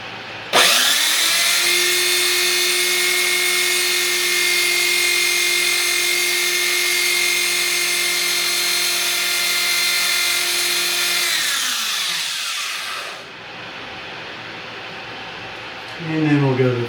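A power tool whines steadily while a silver eagle coin ring is sanded with 600 grit paper, holding one even tone for about eleven seconds before winding down and stopping, then a brief restart.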